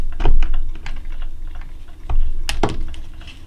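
A playing card pierced to make a hole for a bird charm: a few sharp close clicks and pokes of a tool through card stock, with small handling noises between them.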